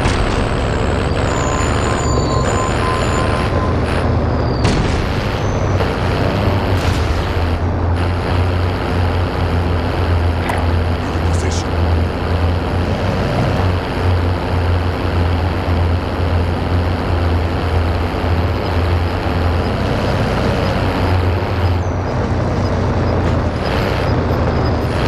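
A truck engine drones steadily in a video game, a loud low rumble running the whole time with occasional hissing and mechanical clunks layered over it, and no voices.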